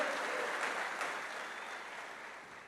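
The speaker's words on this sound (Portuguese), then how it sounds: "Uma salva de palmas para Jesus mesmo" Church congregation applauding during a worship service, a steady roomy wash of many hands clapping that slowly fades, no speech over it.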